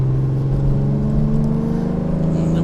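A TVR sports car engine runs loud and close with a deep, steady rumbling drone, its pitch holding fairly even as it revs without other sounds on top.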